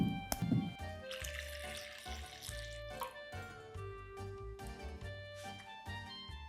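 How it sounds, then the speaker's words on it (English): Tomatoes are washed under a running kitchen tap, with a steady stream of water splashing over them and into the sink, close and fairly quiet. "Next, we are going to wash our tomatoes."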